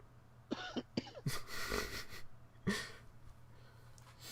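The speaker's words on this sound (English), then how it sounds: "Excuse me for coughing every so often." Several coughs, a few short dry ones followed by a longer, harsher fit and a final cough, close to the microphone with no talking.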